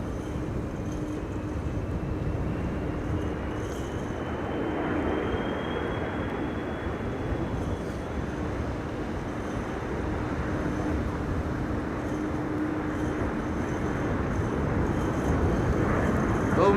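An Egypt Air Boeing 787 Dreamliner takes off at Amsterdam Schiphol in high winds during Storm Benjamin, its engines a steady broad roar mixed with heavy wind noise, with faint talk underneath.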